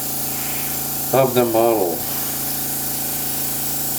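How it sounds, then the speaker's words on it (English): An airbrush sprays paint onto a model tank with a steady, close hiss throughout, briefly interrupted by a short spoken phrase. "right now I'm spraying it dead on from the top"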